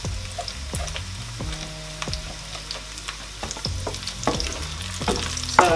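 Sauce frying in a pot during Nigerian party jollof rice cooking with pepper meat, a steady close sizzle broken by repeated scraping stirs and clinks of a spoon against the pot, with no talk.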